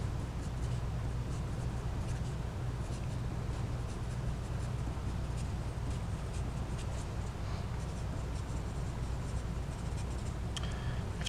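Geometry notes are written in a long, continuous stretch of steady pen-on-surface scratching, close and even, with no talk.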